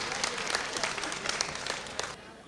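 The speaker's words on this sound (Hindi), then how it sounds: "जोरदार ताली से।" Loud, dense applause from a mushaira crowd in Nuh, Mewat, welcoming a poet to the stage, sustained and even throughout before trailing off slightly at the end.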